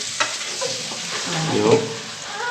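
Mustard seeds sputter and crackle in hot oil for a tempering poured over khaman, with a brief close sizzle, faint clinks and a low background hum.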